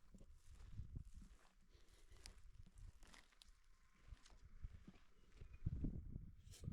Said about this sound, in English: donkeys. It's another type of donkey.